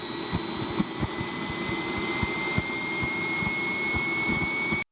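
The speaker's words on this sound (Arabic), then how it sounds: "وبس كده هيبدأ تشغيل المحرك" The engine of a modified go-kart, fitted with new tyres and an adjusted brake disc, runs with a steady high whine and rushing roar, punctuated by regular low thumping pulses, close and continuous until it cuts out.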